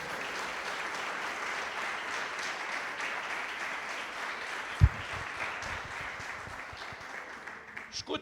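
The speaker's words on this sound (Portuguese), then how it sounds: "Você pode aplaudir a Jesus?" A congregation at a Portuguese-language church celebration service claps steadily in a sustained, fairly soft round of applause, with a single thump midway and voices mixed faintly underneath.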